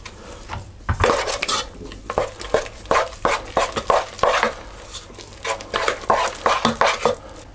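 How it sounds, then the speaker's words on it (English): A spoon stirring very sticky, egg-bound German spice cookie dough for pfeffernusse in a bowl, producing loud, close, rhythmic scraping and clacking strokes in a steady repeating pattern. "And for that, I'm going to use a spoon. At least to start off."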